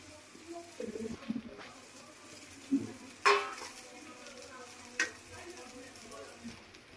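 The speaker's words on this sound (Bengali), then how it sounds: "তো আমি এবার নুডলসটা দিয়ে দেই" Noodles go into a cooking pan and get stirred, giving a soft background sizzle broken by a few sharp clinks and scrapes of utensil on metal, with quiet talk at the start.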